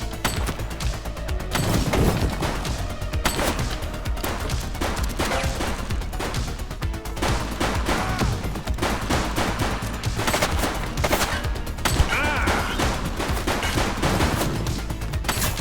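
Dense, rapid gunfire from The Precinct video game, with overlapping bursts and single shots crackling nonstop through the whole stretch, loud and close with brief sharp peaks.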